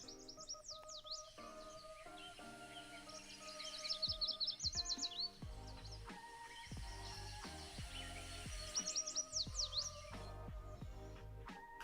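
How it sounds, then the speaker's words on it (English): A yellow warbler sings bright, quick whistled phrases that rise and fall, repeating in short bursts over a quiet background with a few soft clicks. "Let's hear this yellow warbler."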